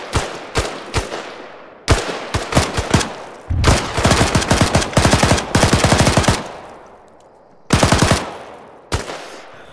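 Gunfire from the video game Operation High Tide: loud close bursts of rapid automatic shots alternate with single sharp reports, broken by short pauses.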